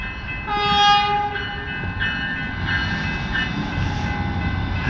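A River Line light-rail train at a station in Riverside, Cinnaminson or Riverton, New Jersey, sounds a steady horn blast, followed by the rumble of the passing train and further fainter horn tones, fairly close and loud, with no talk.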